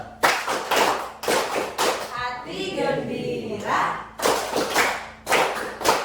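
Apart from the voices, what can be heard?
group clapping rhythmic 'tepuk syukur' thanks clap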